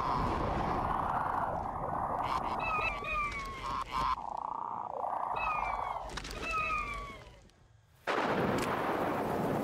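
Explosions from a bombing run in the Star Wars: Empire at War strategy game, a dense rumbling barrage with sharp blasts and crackles, briefly dropping away before a loud burst of booming fire returns at the end.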